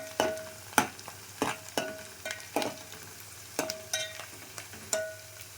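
Onions fry in a pan for a village-style chicken dish, soft sizzling under repeated sharp scrapes and clinks of a spoon stirring against the metal, close and without talk.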